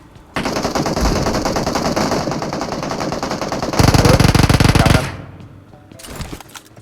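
Rapid automatic gunfire from PUBG Mobile rattles loud and close in sustained bursts, swelling heavier near the end before cutting off, with a short further burst after a pause.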